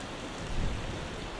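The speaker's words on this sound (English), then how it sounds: "it's hailing like crazy over here" Hail pelting down in the game Vintage Story, heard as a dense, even hiss of falling ice with a brief heavier swell in the middle, moderately faint and continuous.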